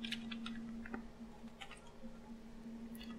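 Typing on a computer keyboard, a quick scattered run of faint clicking keystrokes over a steady low electrical hum, distant and soft, no talking.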